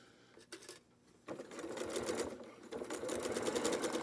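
A sewing machine stitches white-on-white quilt block fabric, starting with a brief pause and then running in a fast, steady mechanical whir of close needle strokes, quiet and without speech.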